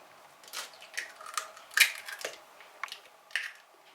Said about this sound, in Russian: разбиваем сюда 5 яиц.